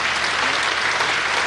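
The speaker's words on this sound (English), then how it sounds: "can we give Comrade Joel a nice round of applause?" An audience at a provincial political party conference applauds in a dense, even wash of clapping, loud and continuous throughout with no voices on top.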